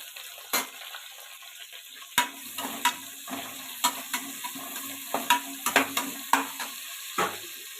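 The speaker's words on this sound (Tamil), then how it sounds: "எண்ணெய் காஞ்சிடுச்சு. இப்போ அன்னாச்சிப்பூ, பிரியாணி இலை இதெல்லாம் சேர்த்துக்கலாம். பச்சை மிளகா சேர்த்துக்கலாம். பெரிய வெங்காயம் ஆட் பண்ணிக்கலாம்" Star anise, bay leaf, green chillies and onion hit hot oil with a soft hiss. A dozen or so sharp clacks and scrapes of a spoon against the pan recur at an irregular pace, and there is no talk.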